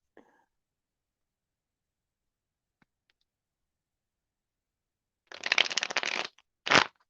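A deck of reading cards is riffled in a quiet room: a longer, crisp rustling burst followed by a second short flutter, with near silence before apart from a tiny click.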